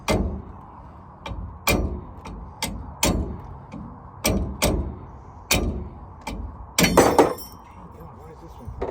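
A wrench clanks and pops off a brake backing plate bolt on a Chevy 1500 drum-to-disc brake conversion, giving a run of sharp metallic clinks and knocks at uneven intervals, close and loud.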